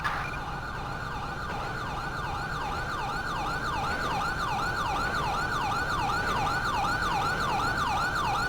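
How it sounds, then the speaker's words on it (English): A police cruiser siren in the video game GTA 5 LSPDFR wails in a fast, regular up-and-down cycle, loud and close, steady from start to finish over faint road noise. "I also changed the siren up if you kind of noticed."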